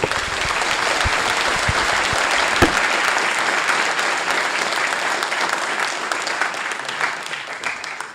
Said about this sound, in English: I want to have a round of applause for the panel.